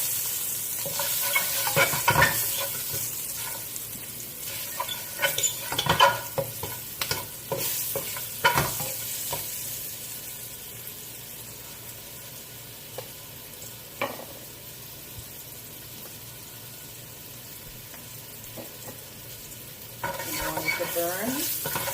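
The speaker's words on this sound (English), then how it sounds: "I'm going to add 1/2 teaspoon of curry. Stir this around." Curry powder being stirred in hot oil in a pot with garlic and ginger, a fairly close sizzle with scraping stir strokes, busier at first, then settling to a softer steady fry.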